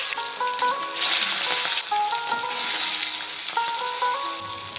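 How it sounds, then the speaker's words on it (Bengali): Salted catla fish frying in hot oil, crackling and sizzling loudly and continuously, with surges of hiss and occasional utensil scrapes against the pan. "তেলটি গরম হয়ে গেছে, কাতলা মাছটি ভেজে নেব"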